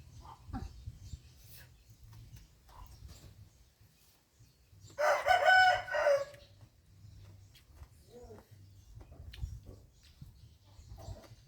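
A rooster crows once in the middle of a rural scene, a clear, fairly close burst rising out of a low rumbling background with no talk.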